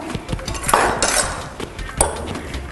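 Mango salsa gets stirred in a bowl with a utensil, making a close, steady run of clinks and scrapes against the dish, with a few sharper knocks.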